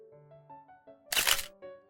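A camera shutter click in a video game, one short bright snap heard close that cuts through soft, gentle background music.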